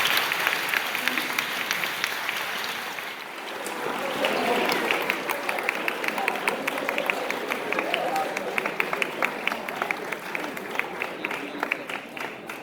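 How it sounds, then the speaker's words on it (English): A crowd applauds at an evening awards ceremony for a boys' Shakespeare competition semi-final after an introduction of a Rotarian past president, the clapping broad and sustained throughout with a dip near the start and crowd noise mixed in. "So can we have a round of applause?"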